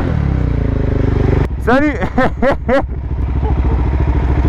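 Motorcycle riding, a loud steady engine drone running throughout while someone speaks briefly over it.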